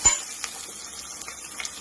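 Tempering of black gram, cumin, mustard seeds, dried red chillies and garlic sizzling in hot oil for a village-style dal, a steady close crackle with small popping ticks and a spoon clink at the start.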